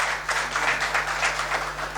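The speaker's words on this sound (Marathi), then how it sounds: "सिक्युअर्ड असले का टाळ्या वाजतात बघा" An audience claps at a public talk, producing a moderate, somewhat distant patter of hands that comes in uneven surges over a low steady hum.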